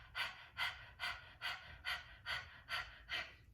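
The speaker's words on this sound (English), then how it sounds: "I invite you to stick your tongue out and pant like a dog" Rapid rhythmic panting breaths through an open mouth with the tongue out, like a dog, practiced as breath of fire in a Kundalini meditation; about eight even, close, fairly quiet huffs in steady rhythm, with no talking.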